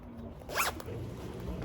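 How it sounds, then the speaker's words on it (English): A jacket zipper is pulled up in one quick rasping zip, close and clear over a quiet room, with no talking. "I'll kind of zip up my jacket"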